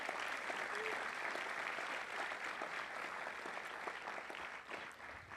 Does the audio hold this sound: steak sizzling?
no